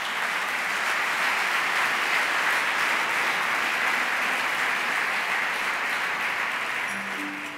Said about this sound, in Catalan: Sisplau, un fort aplaudiment per elles.